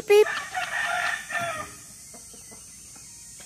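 Chickens cluck and squawk nearby in a short burst, then quieter scattered clucks follow with faint background noise.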